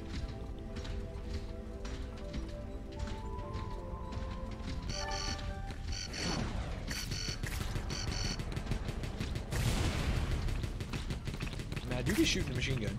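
Machine gun fire in the Wall World video game, a fast stream of rapid shots layered over game music and effects that fill the whole clip.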